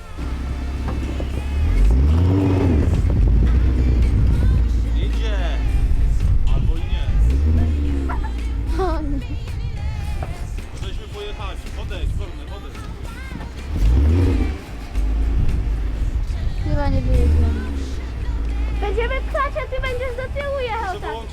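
A tractor engine rumbles and revs in repeated surges, roaring up and dropping back, with people talking and shouting nearby outdoors.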